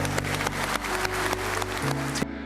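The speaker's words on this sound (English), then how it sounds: "Let's give this fantastic man a wonderful round of applause." A crowd gives a sustained round of applause for wrestler Pat Roach at a tribute in Birmingham: dense, steady clapping that fills the whole stretch, with a faint low hum underneath, before it cuts off abruptly near the end.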